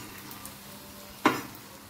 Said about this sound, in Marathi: आणि ब्राऊन होईपर्यंत हे तळून घ्यायचे।